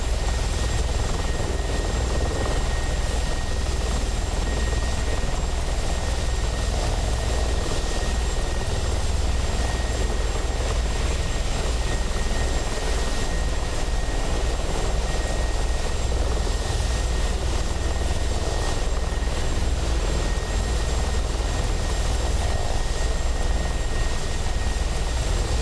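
A Mi-24P Hind attack helicopter in a flight game sends out a steady, loud rotor and turbine drone throughout, a dense continuous thrum with a faint high whine above it and no talking.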